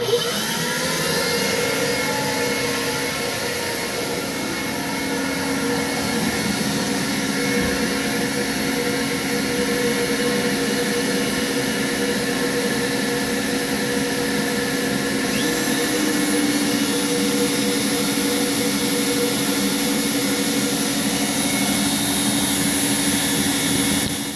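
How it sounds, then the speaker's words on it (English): Very old shop vac running steadily in a workshop beside an X-carve CNC router, a loud constant roaring whine that holds from start to finish with no talking. "turn on the shop vac, which is a very, very, very old shop vac, but man, this thing works awesome"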